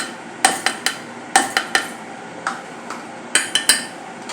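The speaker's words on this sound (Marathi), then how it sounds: "आता हे चांगले घुसळून घेऊया." A cup of yogurt is whisked for kadhi in the bowl used for pakoda batter, giving sharp metallic clinks and taps against the bowl in uneven clusters, close and alone.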